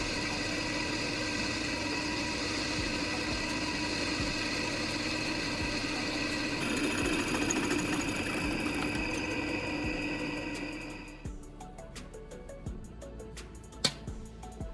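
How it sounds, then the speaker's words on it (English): A drill bores a hole through a metal wrench, making a loud, sustained motor whine with grinding texture that cuts off near the end, leaving a few faint clicks and clanks. "I'm carefully proceeding to drill a hole through the wrench"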